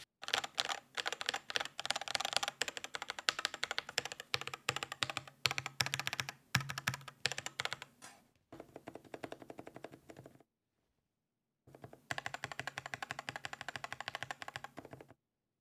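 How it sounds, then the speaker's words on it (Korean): Rapid clicking of arcade buttons with Cherry MX Red switches on a Korean-made Steelbox Pro hitbox, dense fast bursts of clicks, close up and fairly quiet, broken by brief pauses and one short silent gap. "버튼 소음이 어떤지 확인해 봅시다"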